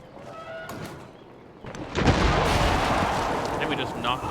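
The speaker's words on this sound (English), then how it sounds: "Get our cannons to the front line." Cannon artillery fire in the strategy video game Civilization VII, a burst of booming blasts that swells into a sustained loud rumble of gunfire and explosions, following a quieter stretch with a voice talking.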